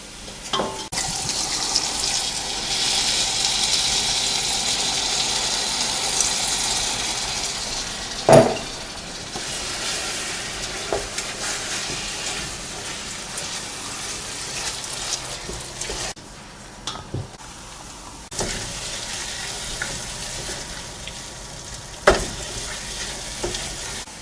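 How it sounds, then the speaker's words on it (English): Garlic frying in a pan for a cuttlefish romesco sauce, a steady close sizzle with stirring scrapes and occasional knocks, then a louder hiss and bubbling as brandy is poured in; no voices. "Now I can feel this smell of garlic being fried. Now I can add some brandy"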